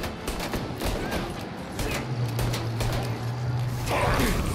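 Gunfire in the video game Mafia Definitive Edition, a dense fusillade of rapid sharp shots crackling steadily over game ambience, with a sustained low hum partway through and no voices.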